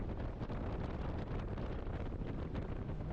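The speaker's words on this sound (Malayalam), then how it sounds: "ഈ കാണുന്ന ജെട്ടിയിലേക്കാണ് നമ്മുടെ ബോട്ട് അടുപ്പിക്കാൻ പോണത്" A tour boat in Langkawi, Malaysia motors toward a jetty. Its steady engine rumble is mostly buried under constant heavy wind buffeting the microphone, with no talk.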